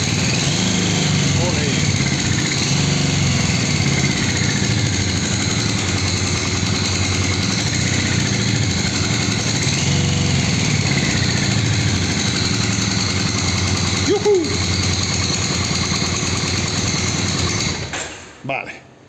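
A Triumph Truxton 900 motorcycle engine running at a steady, loud idle with a constant rough drone for most of the stretch, then cutting off abruptly near the end.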